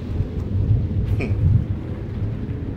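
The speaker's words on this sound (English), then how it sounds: "When will the storm end?" A thunderstorm in The Black Mirror rumbles with a low, continuous roll of thunder over steady rain hiss, loud and enveloping with a faint crackle mid-way, no speech.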